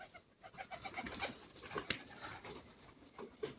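Pigeons coo softly in a quiet loft setting, a few faint repeated coos scattered among light fluttering and shuffling noises.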